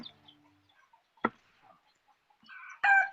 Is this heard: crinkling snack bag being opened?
no